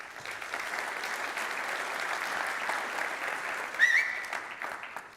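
Audience at a blockchain summit gives steady, dense applause from many hands, continuous throughout with a brief louder whoop or cheer near the end.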